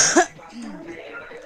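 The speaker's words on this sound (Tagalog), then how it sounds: "Inuubo talaga ako ng bonggang-bongga." A single short cough bursts out close to the microphone, followed by a faint low murmur of voice.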